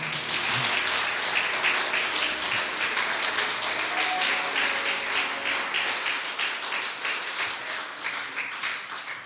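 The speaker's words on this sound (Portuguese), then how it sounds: "Você pode aplaudir o Senhor?" A church congregation claps steadily, a dense wash of applause that holds for several seconds before gradually thinning out.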